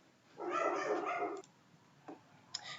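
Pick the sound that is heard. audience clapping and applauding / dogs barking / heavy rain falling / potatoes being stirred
dogs barking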